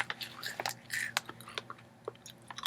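Close, crisp crunching and chewing of a crunchy Japanese Cheetos-like corn snack from a Japanese snack box, a quick run of irregular bites and crackles with no talking.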